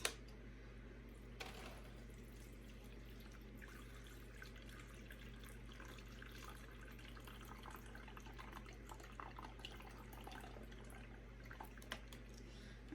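Water pouring steadily into a plant pot of leca clay balls, a soft continuous trickle and splash with occasional drips, close and fairly quiet over a low hum.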